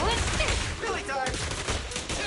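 Gunfire in Zenless Zone Zero combat: a quick flurry of shots crackles close and loud over busy game effects, with a character's voice heard briefly in the mix.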